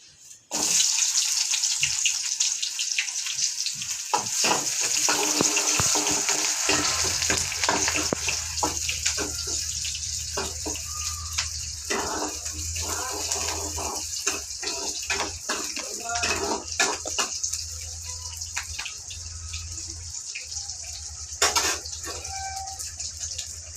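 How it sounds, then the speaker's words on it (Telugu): Onions dropped into well-heated oil for a home-cooked capsicum chutney and curry lunch give a steady, close hissing sizzle with crackles throughout, a low hum entering partway, and no talk over it. "నూనె అయితే బాగా వేడైపోయింది ఉల్లిగడ్డ వేస్తున్నా"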